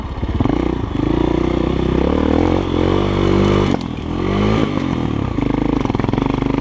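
GEON X-Road 250 PRO motorcycle engine under way while riding, a loud, steady single-cylinder drone whose pitch rises and falls as the throttle changes, with a brief dip near the middle and clattering wind noise throughout.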